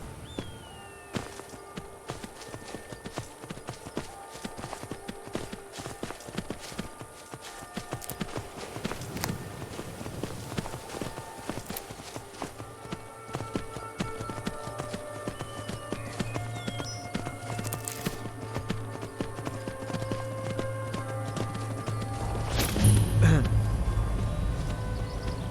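Horse hooves clip-clop in a steady trotting rhythm in Skyrim, with scattered clicks and taps, and a louder low rumble swells near the end.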